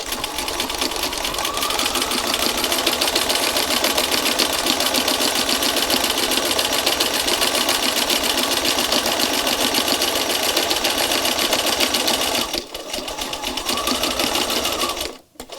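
A sewing machine stitches a denim art journal with recycled paper pages, running loud and close in one long continuous whir, breaking briefly before stopping at the end.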